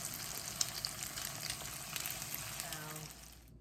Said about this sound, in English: Now we are going to take our cakes and just lay them right in your pan. And we're going to brown each side.